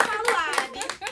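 A small group claps its hands in an indoor setting, scattered irregular claps close by, with a voice faintly present beneath.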